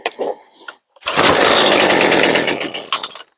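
A Husqvarna string trimmer with a newly replaced carburetor starts on choke and runs at a loud, high, buzzing two-stroke whine for about two seconds before cutting out, close to the microphone.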